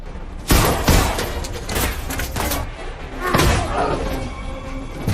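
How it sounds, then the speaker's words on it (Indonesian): Gunfight from the film Death Wish (2018): loud, close bursts of gunfire and heavy thuds in irregular clusters, with a film-scene bed of noise throughout. "Seketika akhirnya terjadilah baku tembak antara Paul dan si pelaku."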